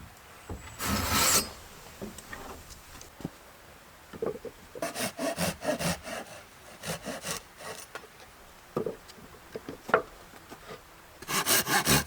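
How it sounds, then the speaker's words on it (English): A handsaw cutting a wooden board by hand at a stone house in the forest, with bursts of rasping back-and-forth strokes separated by pauses, close and fairly loud, no voices. "I used a handsaw to cut the size of the board I needed"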